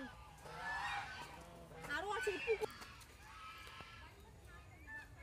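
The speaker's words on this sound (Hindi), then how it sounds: "और भी बतख है उधर पक पक कर रहे" Several ducks quack and honk nearby in a garden nursery area at Hazarduari, Murshidabad, India, over a murmur of background noise, with a person talking at the same time.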